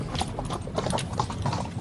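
Horse hooves clip-clop in a steady, even rhythm across the whole stretch, fairly near and moderately loud, with no voices over them; the horses are of a breed raised in Xinjiang, China.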